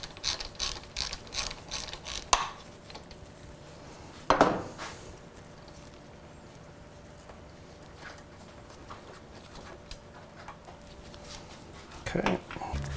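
Ratchet clicks while loosening bolts on the front end of a GSX-R750 motorcycle, a few short bursts of mechanical clicking with brief sharp knocks, close by and moderate in a quiet workshop.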